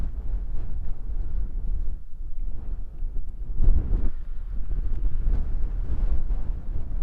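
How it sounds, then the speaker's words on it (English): Steady wind buffets the microphone outdoors at Kariega game reserve, a continuous low rumbling roar with gusts swelling and easing over several seconds, loud and close with no voices. "the wind is blowing."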